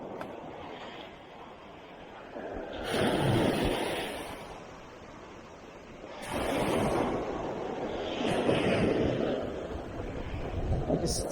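Ocean waves breaking on North Miami Beach at the Newport Hotel, with a few surges of surf washing in and receding over steady wind noise, moderately loud and with no speech.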